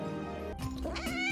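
A cartoon cat in a SpongeBob scene lets out one drawn-out, wavering meow that rises into a strained, caterwauling cry, loud and close, with no talking.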